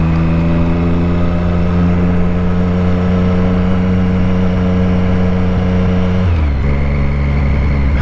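Triumph Street Triple 765 motorcycle running steadily close by, its engine note holding even before dropping and shifting pitch near the end as the throttle changes, with no talking over it.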